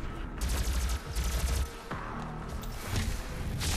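Rapid bursts of gunfire in the first-person shooter Doom on PS4, loud and continuous with heavy thumping impacts and crashes, repeated volleys across the whole stretch.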